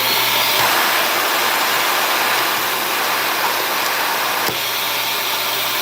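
A Bissell Revolution vacuum cleaner running with its suction on, giving a loud, steady high-pitched whine and airflow roar under a low motor hum that holds constant throughout, with only a slight dip near the end.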